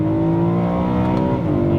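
A BMW E92 M3 Lime Rock Park Edition's engine pulls hard under acceleration, a loud, steady, rising drone with rich layered harmonics heard close from inside the car, with no talking over it.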